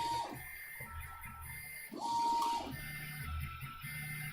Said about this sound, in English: So this is it, purging the nozzle here. Got a test strip going.